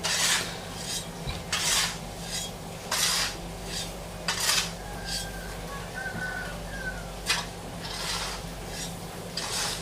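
NPK Grower, potassium chloride and SP36 fertilizer granules being mixed for chili plants, rhythmic gritty rasping strokes repeating about every second, close and fairly loud, with faint bird calls in the background.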